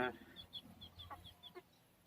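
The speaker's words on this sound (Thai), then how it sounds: "ไก่สองตัวนี่นะ" Bantam chickens with areca-husk coloured plumage cluck in short, high chirpy bursts, several brief calls spaced through the moment, close by over faint low background noise.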